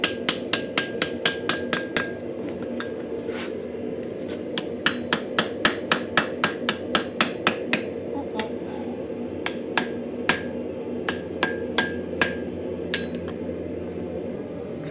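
Hammer blows setting a forge weld on a Finnish-style axe, sharp ringing strikes in quick bursts and clusters with brief pauses between, close and clear over a low background hum.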